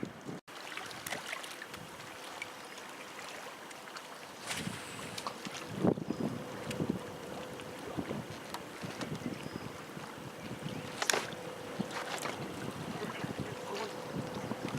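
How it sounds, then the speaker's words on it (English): Wind rushes steadily over a fishing boat on open water, with broadband gusts and microphone buffeting that swell and fade for the whole stretch. A few knocks from the hull or gear come through, and no voices are heard. "Wind is blowing now"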